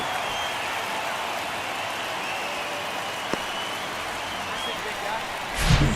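A stadium crowd roars steadily through a base hit in the baseball video game MLB The Show 23, a dense continuous wash of cheering with a brief sharp crack and a swell near the end.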